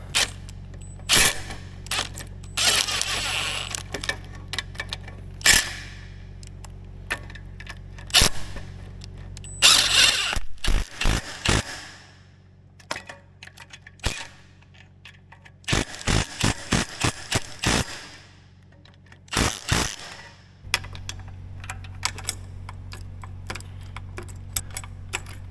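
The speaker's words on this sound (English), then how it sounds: "you pretty much have to have like a 3-degree swinging ratchet" Ratchet clicks against a stubborn, tight bolt on a CAT D8 dozer that sat unused for over 15 years, producing sharp close clicks in short, irregular clusters with pauses and a low hum underneath.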